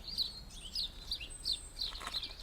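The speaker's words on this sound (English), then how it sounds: "all that chip, chop, chip, chip, chip. That's house sparrows." House sparrows in a garden in January give a faint, steady string of short chirps, about six evenly spaced calls, over soft outdoor background noise.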